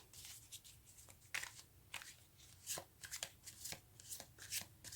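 Tarot cards are shuffled close up, with a run of soft, papery riffles and flutters in irregular bursts, quiet and alone.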